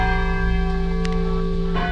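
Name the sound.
church bells of Nantes cathedral ringing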